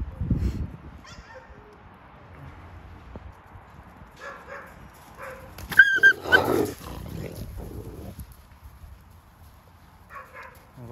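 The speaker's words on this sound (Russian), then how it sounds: "Прям настоящая волчица. Собачьего ничего нет." A Canadian wolf kept near a chicken coop whimpers and yips in short, scattered bursts at moderate distance, with a louder cluster of yelps midway and soft sounds between.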